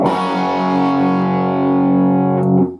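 A distorted electric guitar chord from a song rings out with all strings sustaining, a single loud held chord that cuts off abruptly after nearly three seconds.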